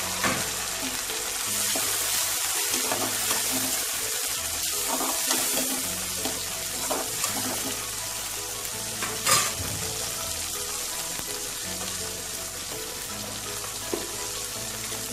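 Tomatoes sautéing in a pan for a yam kuzhambu give a steady, fairly quiet sizzle with occasional stirring scrapes and small knocks, continuous and close with no voices.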